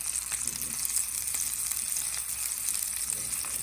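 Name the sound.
squash and bell peppers searing in olive oil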